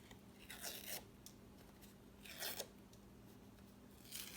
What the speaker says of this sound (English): Peeling and peeling that paper between your fingers.